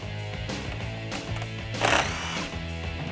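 A power tool whirs steadily up close, removing 8mm bumper bolts on a 2015-2017 Ford Mustang, with a short louder burst midway as a bolt spins free.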